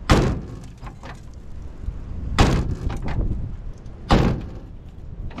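An old International Loadstar truck door slammed shut three times, each a loud, close metallic thunk with a short rattle, separated by quieter pauses.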